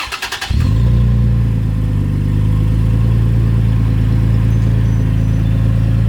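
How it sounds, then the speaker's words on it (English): A third-generation Toyota Tacoma cranks and fires up, then settles into a loud, steady, rumbling idle through an MBRP XP turn-down aftermarket exhaust. "The MBRP exhaust, the turn down tip, I sprayed in black. And we'll do a startup."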